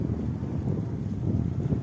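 Steady outdoor wind rumbling and buffeting close to the microphone, a low continuous roar with no other distinct sounds.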